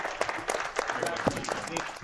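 Audience applause at the close of a Keyforge Vault Tour tournament final in Las Vegas, a steady patter of clapping from the crowd lasting a couple of seconds with voices mixed in.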